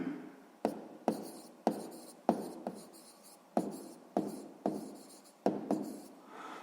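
A pen writing out a sixth-grade math solution on paper: repeated short scratchy strokes, each starting with a sharp tap and fading, in a steady rhythm, close and quiet with no talk.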